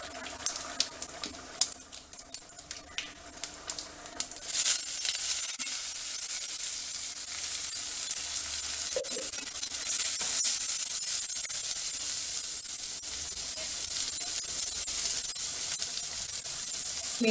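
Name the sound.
cumin and urad dal sizzling in hot oil for sambar masala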